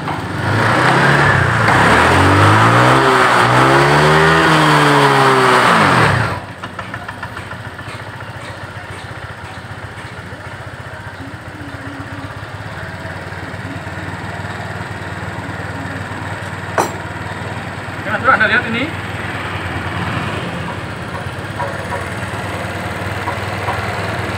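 A Honda Vario 125 fuel-injected scooter with a hard-starting, stalling fault is revved hard. Its engine whine rises and falls loudly for several seconds, then drops to a rough, uneven idle with a few small clatters.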